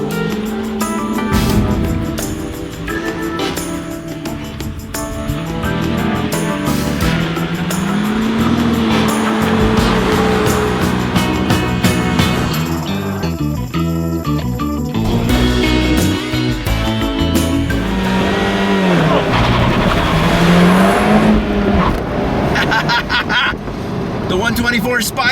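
A Mazda Miata driven flat out across a hill, its engine revving loud and close with shifting pitch and brief tire squeal, under steady talk from the driver.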